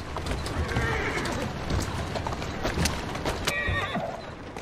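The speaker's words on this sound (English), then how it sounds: "Who's a good horse? You are." Horse in Assassin's Creed Syndicate whinnies loudly over a steady clatter of hooves and carriage noise, with a brief snort near the end and some game speech mixed in.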